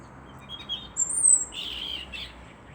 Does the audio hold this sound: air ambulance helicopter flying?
no